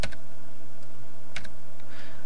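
Single sharp keystrokes on a computer keyboard as the 5 key is pressed, a few distinct close clicks spaced apart over a steady background hum, with no talk.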